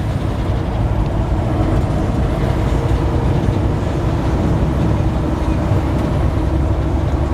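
A 1964 Chevy C10 shortbed pickup with a manual gearbox cruising along, a loud, steady in-cab drone of engine and road noise with no distinct gear changes standing out.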